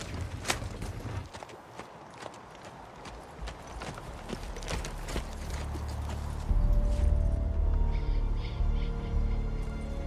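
Horse hooves clip-clop at a walking pace, fairly close, with a low rumbling background that swells in the second half.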